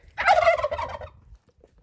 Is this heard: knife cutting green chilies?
no